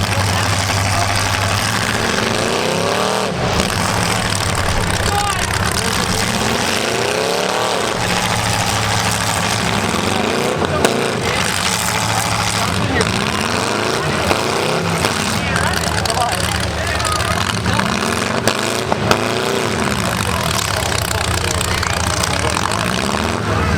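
A battered demolition derby car in a couples class, with a broken tie rod, revs its engine loudly and repeatedly as it struggles to move, under an announcer's steady commentary.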